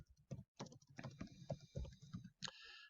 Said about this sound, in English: So I could come up here and type in discovery of the planets.